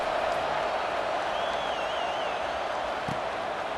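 Stadium crowd in the College Football 26 video game during a kickoff, a steady broad roar of the crowd noise throughout with a faint whistle-like tone midway and a brief thump near the end.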